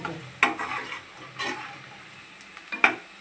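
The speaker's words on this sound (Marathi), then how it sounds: "हे थोडा भाजत आलाय थोडासा असं ब्राऊन दिसायला लागलं" Onion and semolina dry-roasting in a pan for Maharashtrian upma give a soft, faint sizzle with a few brief scraping stirs of a spoon against the pan, close by and quiet.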